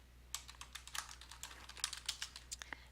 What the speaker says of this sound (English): So we're going to go ahead and type in perform sorting.